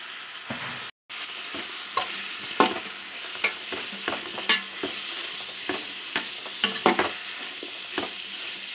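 Tomatoes sauté in a pan for chicken biryani, a steady soft sizzle broken by about a dozen scraping stirs of a spoon at a loose, irregular pace, with no talking.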